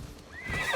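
A horse neighs in Assassin's Creed Odyssey, a single rising whinny, clear and close, with a soft clip-clop of hooves underneath.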